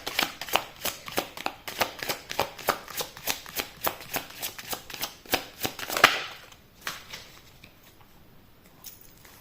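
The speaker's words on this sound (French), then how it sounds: "on va tirer une carte pour voir l'énergie de cette connexion." Tarot cards riffle-shuffled in a steady, fast train of crisp flicks for about six seconds, ending in a sharper snap, then near-quiet with a few soft card touches.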